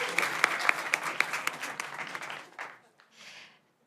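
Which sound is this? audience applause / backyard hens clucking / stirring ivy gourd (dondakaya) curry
audience applause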